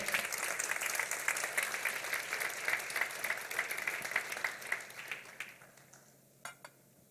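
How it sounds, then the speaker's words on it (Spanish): A church congregation at a Sunday service applauding, sustained clapping that fades into a few scattered claps at the end. "Dele un aplauso al Señor"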